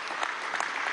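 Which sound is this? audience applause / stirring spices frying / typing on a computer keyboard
audience applause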